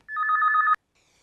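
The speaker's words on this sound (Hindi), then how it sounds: "Answer the phone." A telephone bell rings in a single loud, rapid trilling burst that cuts off abruptly, then silence, with no one talking.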